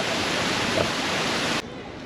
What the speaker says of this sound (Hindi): सो अब हम आ चुके हैं जो सबसे बड़ा वाटरफॉल था सेवन सिस्टर वाटरफॉल में